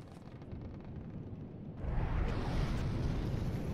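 Torpedoes launching from a cruiser's tubes in the naval game From the Depths, a rumbling low roar that swells into a louder, denser rush partway through and holds steady.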